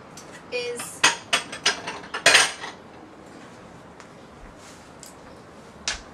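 Pyrex glass dishes handled in a home kitchen, giving a quick run of sharp clinks and clattering knocks close by, followed by quieter pauses and one last clink, with no talking.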